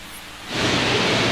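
Quiet at first, then a sudden steady hiss of rain sweeps in and holds, broad and constant.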